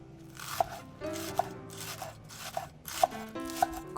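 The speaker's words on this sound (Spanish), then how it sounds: "Cortamos el ajo o la cebolla verde." A knife chops garlic or green onion on a board in steady, crisp strokes about twice a second, close and clear, with no talking.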